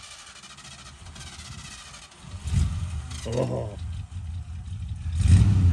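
A Freightliner semi truck's diesel engine cranks and catches, then rumbles and revs in short surges at close range, with a person's brief exclamation over it.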